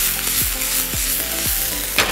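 Chopped onion goes into hot oil already holding cumin, ginger and garlic for a Hyderabadi egg curry masala, giving a loud, continuous sizzle with a few stirring scrapes and no talking.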